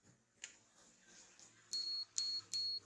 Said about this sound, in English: Put it in buzzer mode, like I'm doing this buzzer mode.